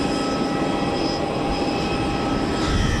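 Etihad Boeing 787 Dreamliner on final approach, a steady broadband jet roar with a faint whine, continuous and fairly distant, no voices.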